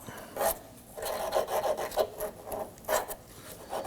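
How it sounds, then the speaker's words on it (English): Fine 400-grit sandpaper scrubs rust off the liftgate pivot of a 2015-2024 Nissan Murano, producing close, steady rasping strokes in a back-and-forth rhythm with no talking. "going to use a little bit of fine sandpaper to go ahead and clean this up"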